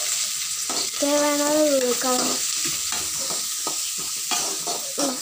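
Boiled, salted cassava is stirred and sautéed with tempering spices in a pan for a South Indian poriyal, giving a soft steady sizzle with scraping stirs; someone speaks over it.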